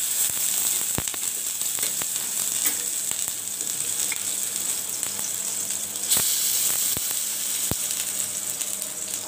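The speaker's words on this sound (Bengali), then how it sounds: "রসুন বাটা দিয়ে মশলাটাকে ভেজে নিব।" Onion paste fries in hot oil in a pan, with ginger and garlic paste added for a spice base for a pabda fish curry: a steady, loud sizzle and hiss with occasional sharp clicks of stirring, no talking.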